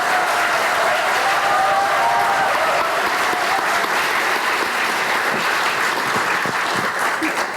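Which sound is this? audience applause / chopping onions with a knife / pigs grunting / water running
audience applause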